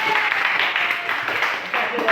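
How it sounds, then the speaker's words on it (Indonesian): Classroom applause for a student, a short burst of scattered clapping from a group, moderately loud and close, with voices talking over it. "Tepuk tangan dulu untuk Krismen."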